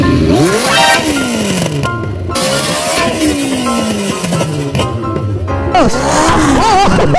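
A big motorcycle fitted with a tin-can exhaust revs hard and loud, its sharp rising and falling engine roars sweeping up and down close by, with brief gaps between bursts.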